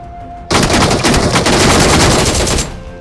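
A loud, continuous burst of automatic gunfire rips out during a solo battle royale match pushing toward Conqueror rank, sustained rapid shots for about two seconds after a quiet start, with no voices.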